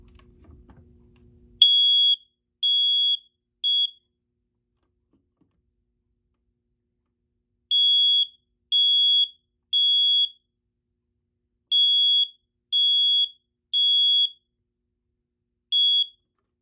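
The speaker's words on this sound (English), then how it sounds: "I'm going to activate the smoke detector by just click the buttons." A smoke detector sounds after its test button is pressed during a Board 299 fire alarm system test, giving a loud, clear, high electronic beep repeated in groups of three with pauses between groups, and no voices.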